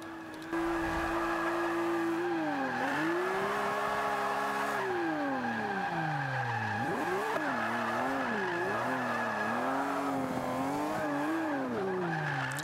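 A Lamborghini Aventador drifts in Forza 5, its engine droning loud and close with the pitch swooping up and down as the revs rise and fall, while tyre squeal runs along beneath it almost the whole time.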